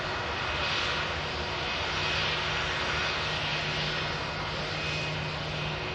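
A Lufthansa airliner taxis past the runway visitor park at Manchester Airport, its engines giving a steady, broad roar that holds an even level throughout without any voices.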